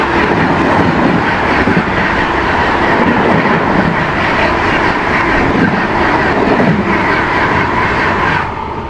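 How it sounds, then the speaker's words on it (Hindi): The Shri Mata Vaishno Devi Katra–Kamakhya Express thunders past up close, a loud, dense rail roar with steady wheel clatter throughout that eases slightly at the very end. "अभी सामने से आ रही है श्री माता वैष्णो देवी कटरा कामाख्या एक्सप्रेस।"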